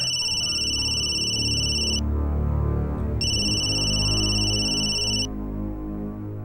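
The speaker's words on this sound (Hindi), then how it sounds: "देखो किसका फोन है।" A phone rings with a high electronic trill in two bursts separated by a short pause, over a noisy crowd murmuring at a press event.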